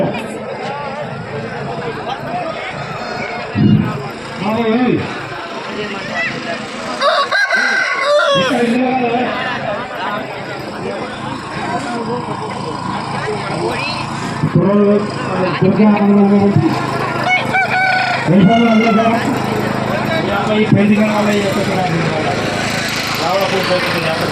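Roosters crow repeatedly amid a noisy, crowded outdoor cockfighting arena, with people talking and shouting throughout and a steady mechanical drone underneath.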